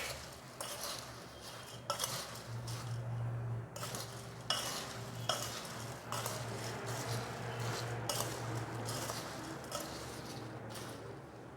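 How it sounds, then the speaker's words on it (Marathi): Bhel is stirred with lemon juice in a bowl, giving quiet, close scraping and light clinking strokes that come in an irregular rhythm. "आणि आता हे आपण व्यवस्थित मिक्स करून घेणार आहोत."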